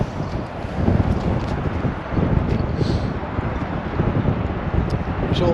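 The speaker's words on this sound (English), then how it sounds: "So if it's a bit windy, you'll have to excuse the noise." Wind buffets the microphone on the bank of the River Humber, a continuous low rumbling roar that swells and dips without a break and sits close and loud.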